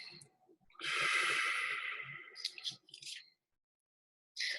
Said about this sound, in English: take 3 mindful breaths